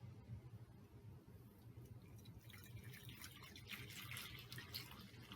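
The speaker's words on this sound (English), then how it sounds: "Pour in the hot water." Freshly boiled hot water poured from a kettle into a bowl for an herbal steam, a faint, steady liquid splash and trickle running throughout, close by and alone.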